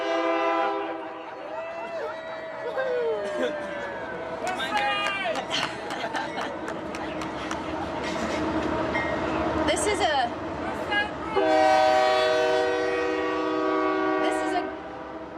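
A train horn blares in sustained harmonic blasts as a train rumbles past, with a voice talking over the noise throughout.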